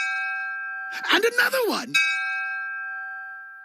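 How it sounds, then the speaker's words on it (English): A winner bell rings with a bright, sustained tone that lingers and slowly fades, while someone briefly speaks over the middle of the ring. "I've installed this bell behind me to alert me when there's a winner"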